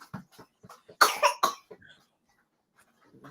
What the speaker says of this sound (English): Who has a little cough?